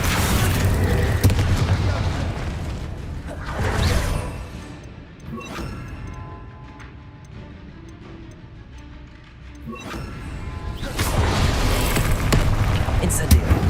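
Bombarda explosion spells going off in Hogwarts Legacy, loud booming blasts with broad crashing rumble at the start and end, and a quieter lull of game ambience between them.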